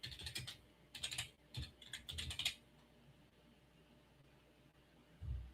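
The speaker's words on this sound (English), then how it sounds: "So I can speak more accurately about I'll have to type it in." Typing on a computer keyboard: several quick bursts of close, crisp key clicks with short gaps, then quiet room tone before a soft low thump at the end.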